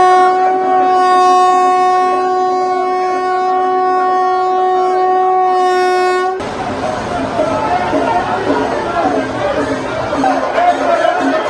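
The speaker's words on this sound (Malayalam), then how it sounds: "തിരുവനന്തപുരം സെൻട്രൽ കണ്ണൂർ ജനശതാബ്ദി എക്സ്പ്രസിന് ചങ്ങനാശ്ശേരി റെയിൽവേ സ്റ്റേഷനിൽ സ്റ്റോപ്പ് അനുവദിച്ചത്" Thiruvananthapuram Central–Kannur Janshatabdi Express arriving at Changanassery railway station: a loud, sustained horn blares for about six seconds, then gives way to a dense rumble of rolling wagons with crowd chatter in the background.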